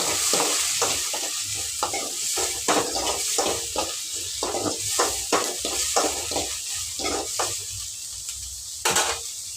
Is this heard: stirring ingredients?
yes